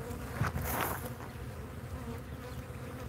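A swarm of stinging bees from a disturbed hive buzzes loudly and steadily, a dense droning hum filling the whole stretch, strongest early and then continuing without pause, with no voices.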